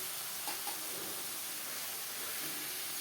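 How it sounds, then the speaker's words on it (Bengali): Jujubes (kul) frying in plenty of oil for a pickle, a soft, continuous sizzle with light stirring scrapes near the start, heard alone without speech. "কুলগুলো আমি দিয়ে এটাকে আমি ভেজে নেব।"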